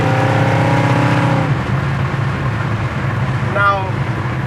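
A 1955 Chevy with a small-block V8 accelerates in drive. The engine note climbs steadily and loudly up close, then shifts and settles into a rougher rumble under road noise.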